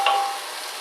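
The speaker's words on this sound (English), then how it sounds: "I'm going to start putting the rice in." Rice tipped into a pan of frying bacon and onions, giving a loud, steady broadband sizzle that swells briefly at the start and then settles into an even hiss.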